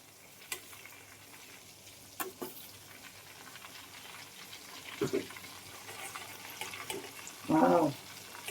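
Prawns fry in hot oil with a faint, steady sizzle, broken by a few brief clinks and one louder burst of crackling near the end.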